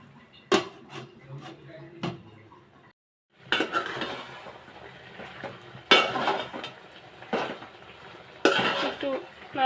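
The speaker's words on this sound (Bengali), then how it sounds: "একটু নাড়াচাড়া দিলাম।" A pot of prawn and bottle gourd curry being stirred, with repeated clanking spoon-on-metal knocks and scraping against the pot, close, over a faint simmering hiss, with a short pause partway through.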